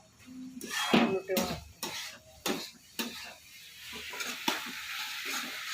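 Garlic frying and being stirred in a pan, with a steady sizzle under repeated scraping and stirring strokes, close by.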